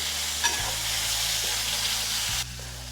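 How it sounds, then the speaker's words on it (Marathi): A masala of onion and tomato fries in oil while being stirred, a dense continuous sizzle close by with scraping stir sounds, easing slightly near the end. "आता याच्यासोबतच आपल्याला कांदा टमाटा देखील टाकून द्यायचा हे सुद्धा आपण चांगलं हलवून घेऊ हा पूर्ण मसाला आपल्याला चांगला भाजून घ्यायचा"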